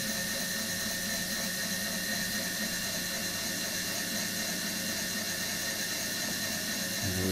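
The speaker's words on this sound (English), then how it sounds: "We are slowly increasing the motor speed here." A wind turbine brake test rig's motor spins up steadily toward about 260 RPM, a continuous loud whine with dense tonal hum and squeal that holds constant, with a slight low-end shift near the end and no voices.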